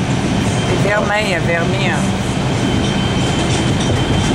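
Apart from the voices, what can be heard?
New York subway number 5 express train riding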